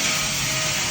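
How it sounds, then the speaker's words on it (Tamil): A polishing machine works a stainless steel and wooden handrail with a loud, steady broadband whir that fills the whole short stretch, with no voices. "ஒர்க் போயிட்டு இருக்கு, பாலிஷ் ஒர்க்கு."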